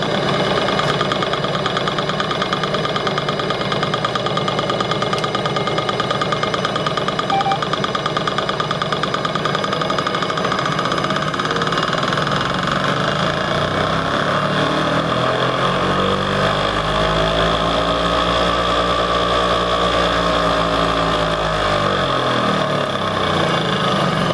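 An early Porsche 911 engine with a 123 ignition distributor runs loudly and steadily, its pitch rising and then falling back as it revs up and settles down to idle.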